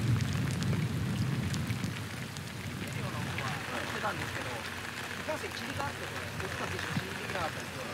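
Steady rain falls on unstable cliffside ground during a natural disaster, a dense continuous patter over a low rumble, with narration running throughout.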